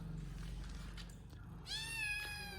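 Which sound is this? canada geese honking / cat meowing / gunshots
cat meowing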